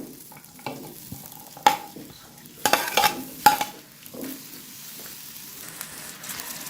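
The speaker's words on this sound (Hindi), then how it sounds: "ऑयल के अंदर मैं गाजरों को और मेवे को इस तरीके से 5 मिनट के लिए पकाऊंगी" Carrots and raisins fry in oil in a pan for Kabuli pulao, a soft steady sizzle broken by several sharp metallic scrapes and knocks as a utensil stirs them, close and otherwise quiet.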